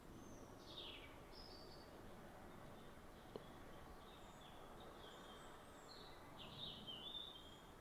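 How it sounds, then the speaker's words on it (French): Birds singing outdoors near a château, scattered high chirps and short song phrases, fairly distant and faint over a quiet, steady background hiss, with one brief click. "On entend le chant des oiseaux."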